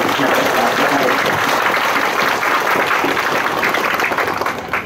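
Loud, sustained crowd applause at a village celebration marking a 700th founding anniversary, a dense roar of many hands clapping steadily from start to finish.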